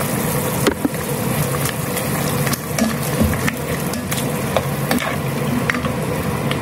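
Potatoes and white onions frying in a pan with boiled muscle beef for a simple curry: a steady close-up sizzle with repeated scraping stirs and occasional clinks of a utensil against the pan, with no talking.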